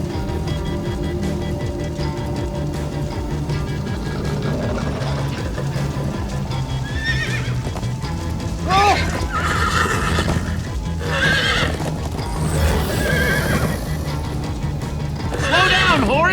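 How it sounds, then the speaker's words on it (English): Horses galloping and neighing in the video game Minecraft Story Mode: clip-clopping hooves run throughout while several loud whinnies rise over them, mixed with game sounds and voices talking. "Slow down, horse!"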